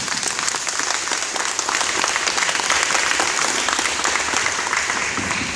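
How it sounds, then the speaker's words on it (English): Sustained, dense applause from an audience for a high school marching band, loud and steady throughout with no talk over it. "Let's give them a round of applause."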